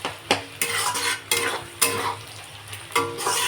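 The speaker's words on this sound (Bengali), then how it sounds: "তো এবারটা ভালো করে একটু ভাজা করে নিই।" Spice paste of garlic, onion, tomato, chili and mustard with cumin, turmeric and salt frying in a pan, with repeated scraping and stirring strokes of a utensil over a steady low sizzle.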